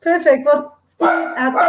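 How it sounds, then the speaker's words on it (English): Dogs bark in the background of a home office while a person keeps talking, the yaps mixed in with the speech across the short stretch. "Everybody, please excuse the dogs in the background."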